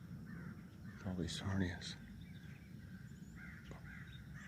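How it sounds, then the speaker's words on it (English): Crows caw a few times at a distance, their harsh calls partly overlapping someone speaking quietly nearby, over a low outdoor background. "There's some crows around"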